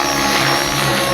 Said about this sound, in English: you lift up the helicopter, then you drop the tail